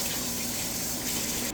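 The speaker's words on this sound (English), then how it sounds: "Just going to rinse it here with cold water." Cold tap water runs steadily into a sink as rice is rinsed, a continuous close, even gushing hiss with no voices.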